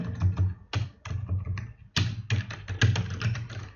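Rapid bursts of typing on a computer keyboard, clusters of close, crisp key taps separated by short pauses, heard alone and close up.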